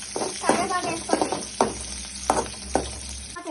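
Mustard seeds and chillies fry in hot oil in a pan for a tempering, crackling in a string of sharp, close sizzling bursts over a low steady hiss.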